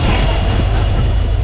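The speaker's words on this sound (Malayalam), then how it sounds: "അത്യാവശ്യം ഭയങ്കര സ്പീഡിലാണ് ഈ ട്രെയിൻ പോകുന്നത്." A Madurai–Rameswaram passenger train runs at speed, giving a loud, continuous rumble and roar of wheels on track close up, with no clear rhythm breaking through.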